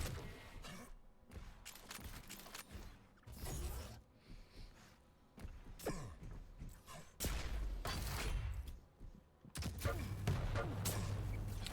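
Rapid weapon fire from a competitive Quake match, bursts of sharp shots and rail-like zaps cluttering a busy, loud mix with game effects throughout.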